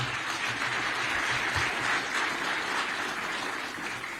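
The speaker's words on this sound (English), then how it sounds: "Another round of applause, ladies and gentlemen" Audience at a tech conference in Zambia applauding the guest of honor, the President: a steady, moderately loud spread of clapping from a large room, rough and continuous with no voices standing out.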